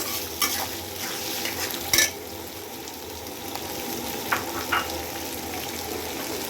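Spices and tomato stir-fried over high heat for gravy masala chicken, a steady low sizzle with a few sharp spatula scrapes and clinks against the pan.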